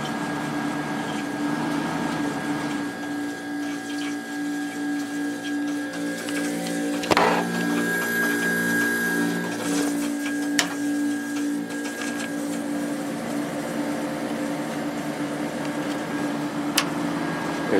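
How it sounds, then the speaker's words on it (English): A Whirlpool dehumidifier's compressor runs with its fan switched off, giving a steady, close mechanical hum with a faint electrical whine that holds level throughout, broken only by a few small clicks. "Let me see if I can get you a compressor sound without the fan running."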